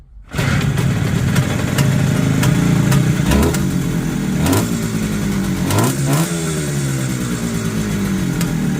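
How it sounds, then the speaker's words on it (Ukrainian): An IZh Jupiter 3 motorcycle engine idles and revs up close, with a rough, rattling exhaust note from one pipe and occasional throttle blips, no talking. "звук з одної вихлопної буде трошки так бренчать"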